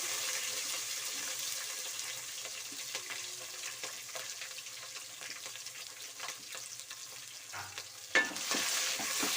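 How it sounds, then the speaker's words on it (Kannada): Capsicum and spices fry in a pan for bisi bele bath, giving a soft continuous sizzle with faint stirring scrapes and a brief clatter near the end; no speech. "ನೋಡಿ ಇವಾಗ ಕ್ಯಾಪ್ಸಿಕಮ್ನ ಸೇರಿಸ್ಕೊಳ್ಳಿ"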